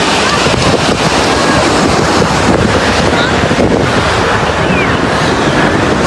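On a Kerala beach in south India, loud surf rolls and crashes continuously while strong wind buffets the microphone, giving a rough, roaring wash of sound with no clear pauses.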